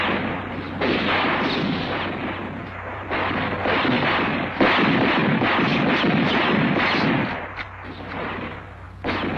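Loud, dense gunfire and booming blasts from an action-comedy shootout, with heavy shots firing continuously and in bursts over a rumbling low drone.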